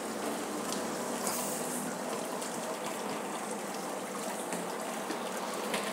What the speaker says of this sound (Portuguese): Tá pingando bastante, passando bastante mosto.